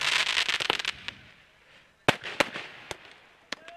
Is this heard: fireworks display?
yes